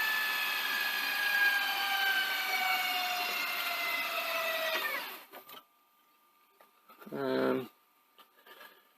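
A Panasonic DMR-EZ48 VHS deck rewinds tape at high speed with a loud, rising whine that stops abruptly after about five seconds, followed by quiet and a short mechanical whir as the tape unlaces.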